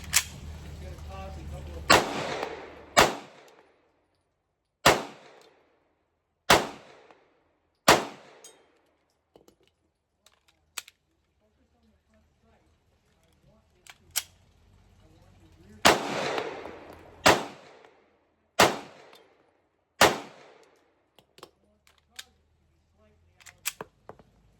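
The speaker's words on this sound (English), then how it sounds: "Let's take a look at the first shots from the Canik" Canik Taran Tactical Combat Edition 9mm pistol fired at a range: about a dozen loud, sharp shots in uneven groups with short pauses, each ringing off briefly, plus a few faint clicks between.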